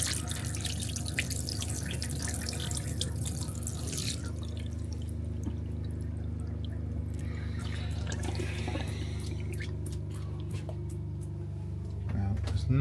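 Cold water runs steadily from a motorhome tap, a continuous close splashing stream with dripping, louder at first and thinning slightly midway, with someone talking over it.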